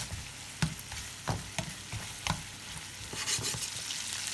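Green pepper and onion frying in a pan for rice, a soft steady sizzle broken by several sharp scraping strokes as the vegetables are stirred, close and fairly quiet.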